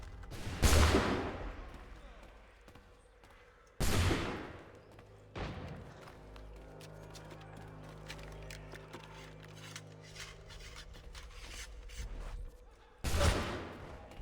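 Gunshots in Assassin's Creed 3 Remastered: sharp, loud broadband cracks, one near the start, another around four seconds and a third near the end, separated by quieter game ambience and rattling.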